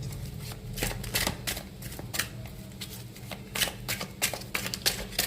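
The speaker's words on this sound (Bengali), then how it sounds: "কিছুটা সাফল করে নিই, তারপর একটা করে কার্ড নেব।" Tarot cards being shuffled by hand: repeated riffling and soft slapping bursts in an uneven rhythm, close and fairly quiet, with no talk over them.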